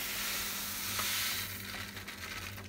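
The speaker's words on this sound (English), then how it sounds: "Again, and give this another stir." Grains are stirred into the mash during a porter brew day on a BrewTools B80pro system, a steady, faint swishing and churning wash of sound.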